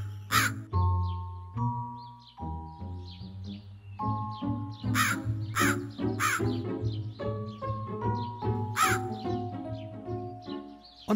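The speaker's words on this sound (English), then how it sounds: "a thirsty crow fell all over the fields looking for water" Repeated crow caws from a thirsty crow in an animated children's story, loud harsh calls recurring in bursts over a steady tonal music bed, with no talking.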